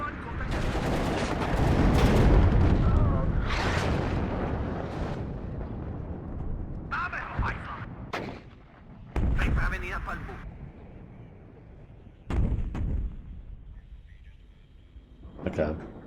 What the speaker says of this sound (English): I'll use the grenade launcher.